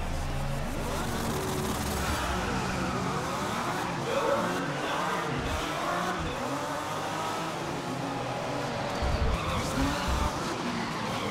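A Ferrari race car in a racing video game roars continuously with engine drone and tire skidding, loud and sustained throughout, with occasional low thumps.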